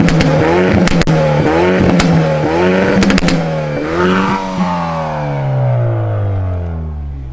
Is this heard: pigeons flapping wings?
no